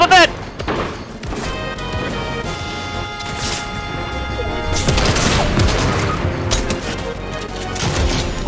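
Crashing bursts of gunfire and impacts in a Fortnite match, loud and chaotic, with excited voices talking over much of it.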